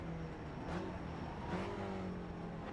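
Race car engine droning at steady revs in the iRacing simulator on the Tsukuba circuit, a continuous tonal hum with a couple of pitch shifts, heard alone without talk.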